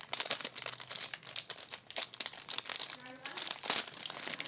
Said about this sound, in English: unwrap the packaging